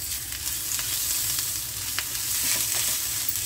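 Ginger-garlic paste fries in a pan on low flame after cumin tempering, a steady, close hiss and crackle that runs throughout with faint scrapes.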